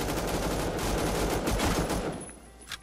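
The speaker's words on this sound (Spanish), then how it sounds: "Ametralladora sniper" A sniper machine gun in the Roblox shooter Phantom Forces fires in a fast continuous burst of loud, dense gunshots that fades out near the end, with no talking over it.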